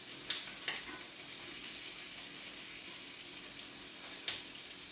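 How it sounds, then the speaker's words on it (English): Lamb French cutlets sizzling in a frying pan, a steady broad hiss of frying fat running throughout at low level, with a few small pops and clicks standing out. "We've got a fantastic sizzle going on our pan here."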